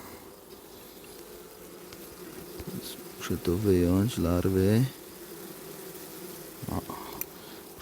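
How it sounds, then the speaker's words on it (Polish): Honeybees buzz steadily throughout at close range around an open hive during an inspection of nucleus colonies, with a person speaking in the middle under the drone. "pszczoły tu się robią troszeczkę niespokojne"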